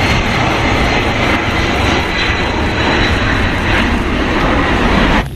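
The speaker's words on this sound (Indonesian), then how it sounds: "Wah, ini pesawat kargo." A toy cargo airplane gives a dense, loud, continuous roaring drone like a jet engine, unbroken for the whole stretch until a sudden stop at the end.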